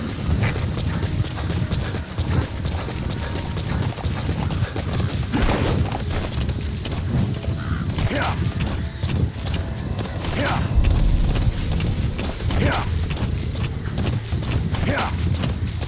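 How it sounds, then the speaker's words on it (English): Horse hooves clop in the Metal Gear Solid V: The Phantom Pain game, with irregular hoofbeats over a constant rumbling outdoor ambience, some louder strikes standing out in the later half. "Use your horse."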